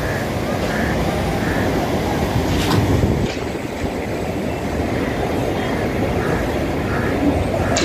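A train rumbles steadily past at a station beside Dhobi Ghat in Mumbai, a continuous broad roar of rolling wagons with faint squeals, heard from close by amid city noise and some indistinct voices.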